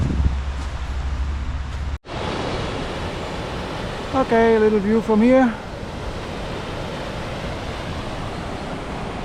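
A waterfall on a river along the West Highland Way gives a constant, close rushing roar, with a short bump and someone speaking briefly over it.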